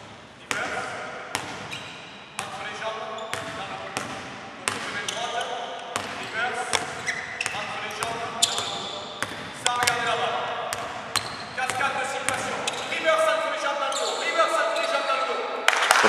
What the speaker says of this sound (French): Un dribble en reverse, un dribble dans l'entrejambe, un dribble dans le dos.